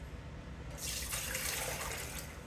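Water runs from a tap into a canning jar being filled half with water and half with vinegar for pickles, a steady close splashing gush that starts abruptly after a brief quiet moment.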